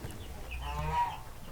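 A hen clucks inside a chicken coop near the nest box. One drawn-out, throaty cluck rises and falls over a low background hum, fairly close, with no talking.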